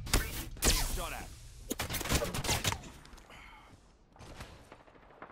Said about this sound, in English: Shot at.